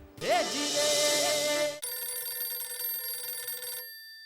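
A telephone rings loudly with a bright, trilling electronic tone, then keeps ringing at a steadier, thinner pitch until it cuts off.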